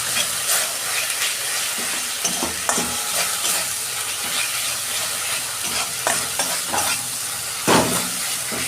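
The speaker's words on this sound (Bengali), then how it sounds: "আমি ভালো করে কষাবো মশলাটা।" Spice masala for an amudi fish curry sizzles and fries steadily in oil in a pan while being stirred, with frequent scraping clicks of the spoon over a constant hiss, close and fairly loud with no talking.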